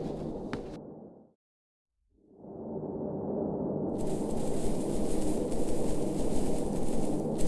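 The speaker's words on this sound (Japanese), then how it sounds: "風の音しかないんです。" Wind gusting across an empty Midwestern summer landscape, a broad, steady rushing roar that drops out briefly and then returns stronger with a hissing upper layer, with no other sounds.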